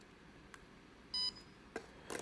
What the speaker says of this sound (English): It'll beep a couple times while it's programming your finger.